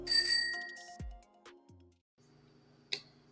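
A few bright bell-like dings ring out with decaying tones, followed by a quieter pause and one more sharp chime near the end.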